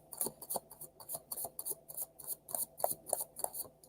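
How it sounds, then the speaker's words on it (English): Tarot cards are shuffled in a steady rhythm of about a dozen crisp riffling bursts, close and clear, with no talking. "that's a good shuffle"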